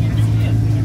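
A Ford Mustang 5.0L drift car idles with a low, smooth engine burble, steady and close for under a second.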